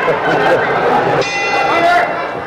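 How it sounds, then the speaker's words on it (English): A ringing bell marks the end of round 7 in a boxing match. Clear, sustained metallic tones sound twice over a loud arena crowd while a commentator talks over it. "There's the bell ending round 7."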